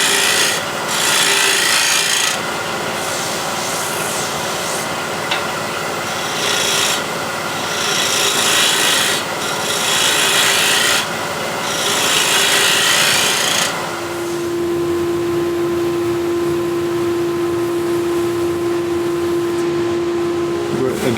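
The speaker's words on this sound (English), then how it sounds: "Scraper just to clean it." A hand scraper cleaning the surface of a handmade wooden flash drive box, giving repeated rough rasping strokes in long rhythmic passes, followed by a steady tonal hum.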